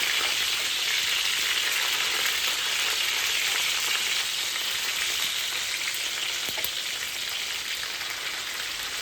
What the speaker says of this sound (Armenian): հիմա տապակելի եմ կարմիր բուլղարական պղպեղով